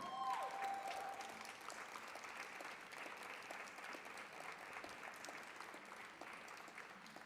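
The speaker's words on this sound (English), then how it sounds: "Give them a round of applause." A crowd applauds with steady, dense clapping that holds at an even level throughout, without voices rising above it.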